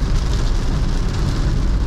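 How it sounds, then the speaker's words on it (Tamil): Heavy rain pounds on a car moving along a wet highway, a loud, dense, continuous wash of drops mixed with low road rumble and no talk. "நல்ல மழைங்க, நல்ல மழை."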